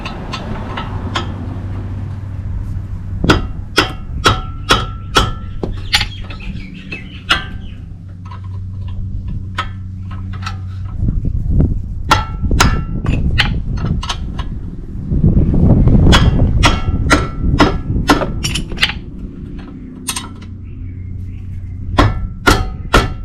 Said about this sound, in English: Tightening the bolts.